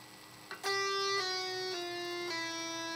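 Clean guitar legato pull-offs: notes flow smoothly into one another, four tones sounding at an even, steady volume with no picking attack between them.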